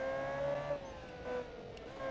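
Rally car in BeamNG, a modern Group B style build, launching hard with a loud sustained engine note that climbs and dips through gear changes, close and continuous.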